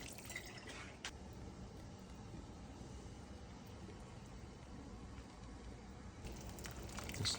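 Golden broth for Vietnamese pho pours steadily into a pot or bowl, a continuous soft liquid stream running alone for several seconds and growing slightly fuller near the end.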